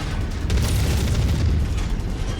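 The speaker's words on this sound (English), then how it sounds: "Incoming missile." An incoming missile explosion in a mech combat game, a dense, sustained low rumbling boom that fills the whole moment, loud and close with no talking over it.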